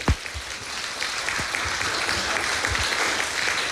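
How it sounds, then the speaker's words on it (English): Applause breaks out among wedding guests at a ceremony, a few sharp claps at first that quickly thicken into steady, moderately loud clapping from the gathered crowd. "I think they all deserve a round of applause."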